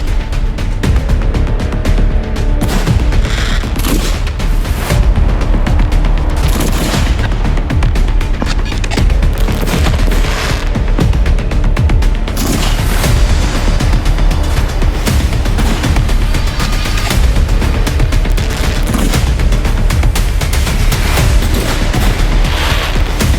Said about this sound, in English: Then, Joe follows, firing off a row of the big 4-inch Cocos.